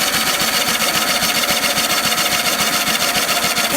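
A lawnmower engine cranks over on its starter without catching, a fast, even rhythmic chugging that stays close and steady throughout with no voices.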